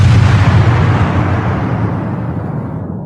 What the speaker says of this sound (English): I'm trying to find the explosion